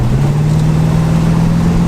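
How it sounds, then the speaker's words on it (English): A 1960s Ford Galaxie V8 under load on a drive, its engine holding a steady, loud low drone with a constant hum and road rumble throughout, no voices over it. "You can hear the engine's laboring less due to that"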